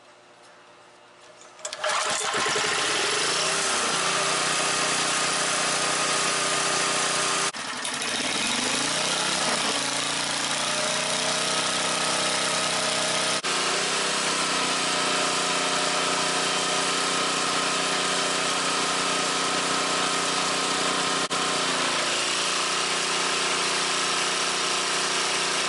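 A small portable generator engine runs steadily and loudly after starting up, its drone holding a constant pitch with slight surges and dips throughout, after a lazy governor fix.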